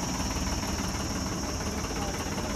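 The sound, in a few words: Sonalika tractor engine idling at tractor market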